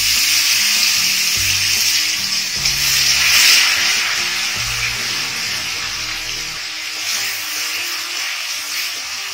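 Garlic paste hisses and sizzles in hot oil with a little ghee, a steady, fairly loud broadband frying noise filling the whole stretch, with a few faint low clunks underneath.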